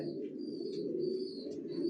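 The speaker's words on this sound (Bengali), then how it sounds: "জনসনের লংয়ের কবুতর পালি" Johnson long racer pigeons coo in a loft, a continuous low warbling drone from several birds nearby, with faint higher chirps above it.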